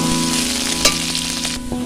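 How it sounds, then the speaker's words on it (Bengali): Steady, close sizzling of onions frying in hot oil, with a brief clink of a utensil partway through and no talking. "পেঁয়াজ ভাজা হয়ে গেছে"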